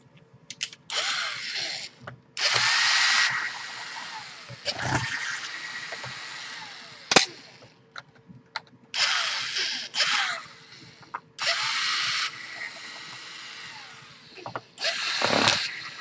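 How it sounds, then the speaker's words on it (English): Power screwdriver whirring in repeated bursts as it backs screws out of an Acer Aspire 5750 laptop case, each run a few seconds long and close, separated by short pauses and small clicks. "So let's begin by unscrewing all the screws."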